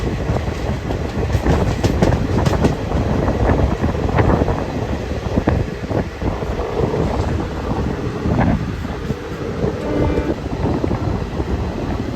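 A small ICF passenger train running past fast, a loud continuous rumble and rattle of coaches with wind buffeting the microphone throughout.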